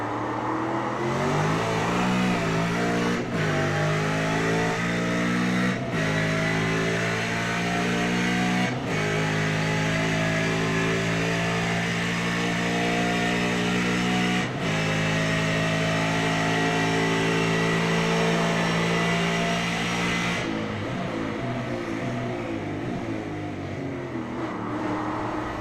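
Race car engines in a sim racing game, a continuous loud drone of several cars with gear-shift dips and rising revs, running steadily throughout without talk.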